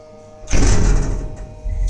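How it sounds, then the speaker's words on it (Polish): Windpol elevator doors, modernized in 2007, slide shut with a loud, broad rumbling whoosh that fills most of the clip, then a second softer push of motion near the end, with no talking. "Oczywiście muszą się zamykać i drzwi również."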